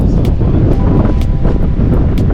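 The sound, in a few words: wind blowing into microphone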